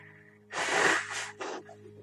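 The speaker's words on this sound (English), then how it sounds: "That I'm blowing my nose, I know." A close, forceful nasal blow, a long breathy burst followed by a shorter second one, with quiet room hum underneath.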